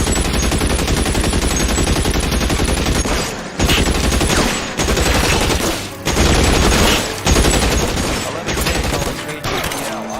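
Rapid bursts of gunfire crackle through a shootout in the 1940s Los Angeles crime game L.A. Noire, loud and sustained automatic fire broken by short pauses, with brief gaps between volleys.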